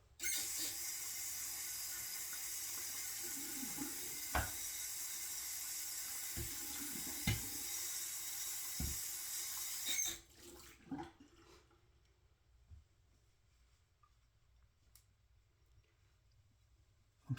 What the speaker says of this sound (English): Just a minute, let me wash this soap off.